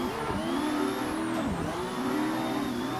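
A pro drift car in a racing video game holds a steady, droning engine note that wavers in pitch as the throttle shifts, with turbo flutter from the car, heard alone without talk.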